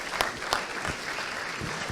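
Steady clapping from a crowd at an esports careers event, a dense wash of hand claps with a few sharper individual claps standing out near the start.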